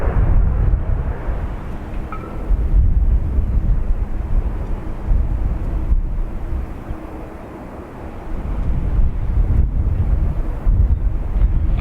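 Strong gusts at Dublin Airport buffet the microphone for the whole stretch, a loud, continuous low roar that swells and dips, with no voices.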